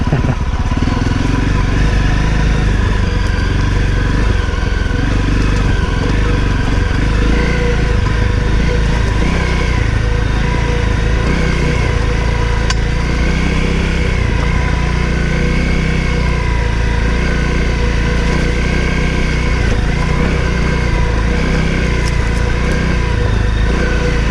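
A Honda CRF250L motorcycle on an off-road trail, its engine droning steadily and loudly throughout, with wind rush and throttle surges near the microphone.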